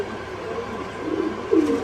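A pair of pigeons in a loft coos in low, rolling murmurs over background hum, growing a little louder near the end.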